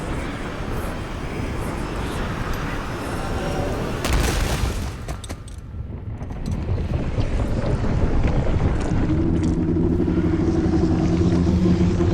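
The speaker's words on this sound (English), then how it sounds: "The boat shifting!" Wooden boat creaking and rocking on water in the video game God of War, a steady loud wash of water and wind with a heavy thump midway, no talk.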